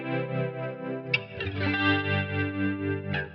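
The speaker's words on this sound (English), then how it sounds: "But that tremolo effect, I absolutely love." An electric guitar plays through a Line 6 Helix with a tremolo modulation effect, sustained chords pulsing in a steady rhythmic wobble, with a strummed change partway through, clear and alone.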